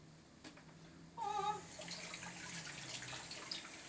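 Tap water runs into a kitchen sink as raw chicken is rinsed under it, a steady splashing stream that starts abruptly and continues close by with no talk.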